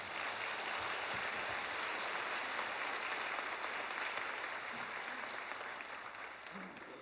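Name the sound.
applause welcoming the pastor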